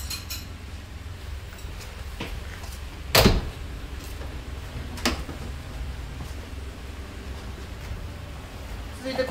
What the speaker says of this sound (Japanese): 続いてこちらの車は両側パワースライドドア自動のドアになります。